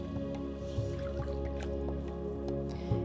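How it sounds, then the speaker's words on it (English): Water drips from a washcloth wrung out over a basin at a bedside, a steady patter of small drops and trickles over a constant low hum. "You'll take one washcloth and wring it out over the basin"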